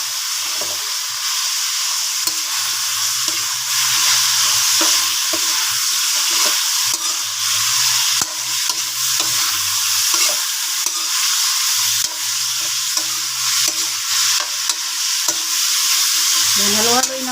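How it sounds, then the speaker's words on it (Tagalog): Sautéed string beans (sitaw) are stirred in a hot pan, with a loud, continuous sizzle of frying and repeated scraping and clinking from the utensil throughout. "halo-haloin lang natin"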